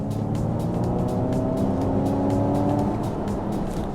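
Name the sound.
Ford Mustang Mach-E GT electric car propulsion sound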